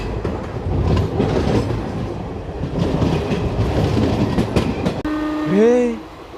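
A Raipur–Visakhapatnam passenger train runs on rails between two hills, with a steady rumble and rhythmic wheel clatter close by, then a loud horn blast with rising and falling tones at the end.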